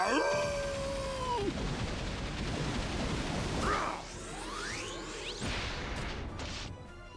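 In the game Disgaea 4, a Prinny lets out a wavering, rising howl, followed by crashing impacts and whooshing attack effects.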